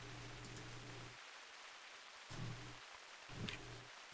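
Steady rain hiss in the video game theHunter Classic, on the Logger's Point map, fills the clip, soft and continuous, with a low droning tone that cuts in and out a few times.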